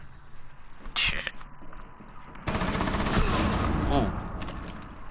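Gunfire in Rainbow Six Siege: a sharp shot near the one-second mark, then a sustained loud burst of firing through the second half, with players' voices mixed in.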